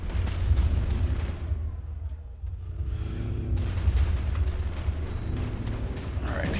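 Weapons fire in the Mass Effect video game on the planet Ilos comes as dense, crackling bursts and booming impacts that cut out briefly and then resume with heavy, overlapping shots.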